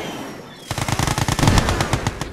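Rapid machine-gun fire in the strategy game Command and Conquer: Yuri's Revenge, a dense burst of shots breaking in after a brief quiet moment and continuing loudly to the end.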